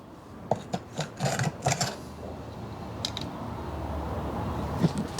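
Steel scraper drawn along the fullers of a cable Damascus rapier blade, a few short rasping strokes near at first, then a steady faint scraping hiss with one more stroke near the end.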